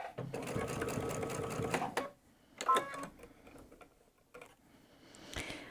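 Sewing machine running an anchor seam attaching a collar to a jacket neckline, a close rapid rattling burst of about two seconds, then quieter clicks and fabric handling with short pauses.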